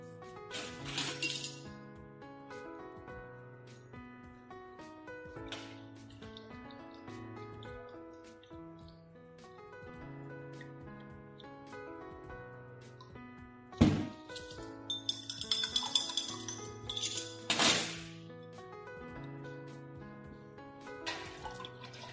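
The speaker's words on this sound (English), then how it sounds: "Pour into the milk and mix well." Diluted calcium chloride poured into milk and stirred during hard curd cheese making: brief splashing, trickling and clinking bursts over gentle background music.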